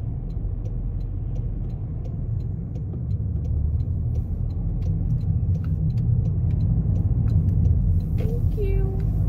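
Road traffic rumbles steadily in the United States as many cars roll past close by, a dense, continuous low drone that builds slightly, with a short squeal near the end.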